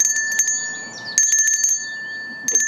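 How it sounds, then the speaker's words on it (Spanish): A bell rings repeatedly in bright, clear bursts: a short cluster near the start, a longer run of strikes in the middle, and another brief burst at the end, with faint rustling between. "la campana hacía tanto ruido"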